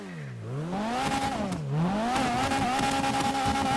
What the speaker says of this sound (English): It sounds like a rally car. I mean, it really does sound pretty amazing.